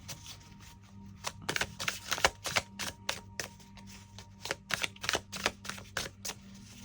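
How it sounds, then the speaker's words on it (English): A deck of tarot cards is shuffled in a big, airy shuffle, producing a rapid series of crisp clicking riffles and flutters, close and fairly quiet, with no one speaking. "I feel drawn to actually do a big shuffle here."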